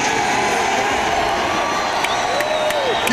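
A concert crowd at a show in a Moline, Illinois venue roars and cheers in one steady, loud wall of sound, with whoops rising through the noise and no break in the din.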